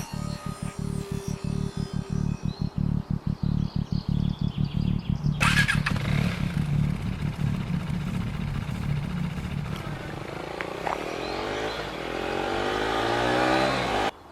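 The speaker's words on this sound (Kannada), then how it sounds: "ನೀ ಬೈಕ್ ಹೊಡಿಯ." A motorcycle engine idles in a rapid, steady putter, then revs up and pulls away, its tone rising and shifting as it rides off with a loud, close drone.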